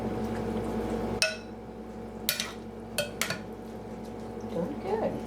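Cornbread mix batter being stirred in a bowl, with a few sharp clinks of a utensil against the dish and soft wet scraping over a low background hum. No speech.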